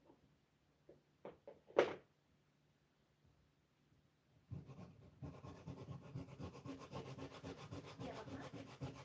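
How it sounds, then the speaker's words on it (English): Grating on a plate while baking a Jamaican Easter bun: after a few scattered knocks and a short pause, a close, steady run of rhythmic rasping strokes begins and continues to the end. "I'm grating on the plate."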